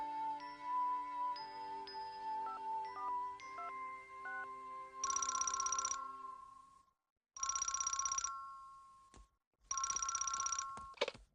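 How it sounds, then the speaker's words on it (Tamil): Telephone ringing in a Doraemon cartoon episode: a melodic electronic tone sequence, then three loud buzzing rings separated by short silences, clear and alone. "உனக்கு போன் வந்திருக்கு, வா"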